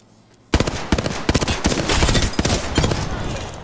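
Rapid gunfire in the Apex Legends video game bursts in suddenly and continues as a loud, dense volley of overlapping shots, with a few sharper cracks standing out in the steady stream of fire.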